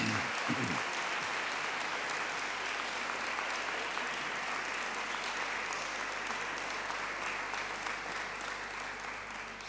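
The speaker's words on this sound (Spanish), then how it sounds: "pido un aplauso para esa gente" Applause for Red Cross volunteers and carers at a regional Red Cross gathering in Almería, a continuous even wash of many hands clapping, moderately distant and fairly quiet, easing off slightly toward the end over a low steady hum.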